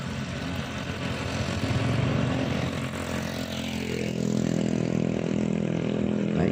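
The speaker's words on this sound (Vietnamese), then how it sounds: "Đoạn này thì những phương tiện xe máy nối đuôi nhau." Motorbikes run in a line along a curving highland stretch of National Route 14 in Vietnam's Central Highlands, a continuous loud engine drone with rushing wind that swells as they pass close by.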